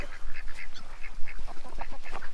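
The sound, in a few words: duck quacking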